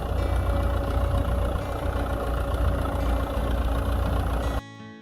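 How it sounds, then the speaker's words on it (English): A Massey Ferguson 165 tractor engine running steadily, a dense loud low rumble that holds evenly and then cuts off abruptly near the end. "We heard somewhere the deep sound of a tractor in the middle of the field"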